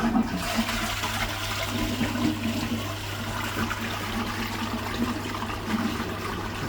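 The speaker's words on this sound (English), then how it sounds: "we'll give her a flush and see if she's leaking on the pan connector or anything" A toilet being flushed after pan connector work, a loud rushing gush of water with a steady low hum beneath, running continuously with no talk.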